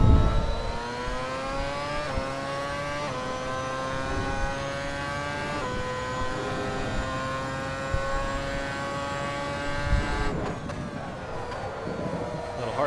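A Ferrari F138 Formula One engine in the racing game Assetto Corsa screams at high revs, with its pitch stepping sharply on each downshift. The engine sounds loud and steady throughout, and there is no talk.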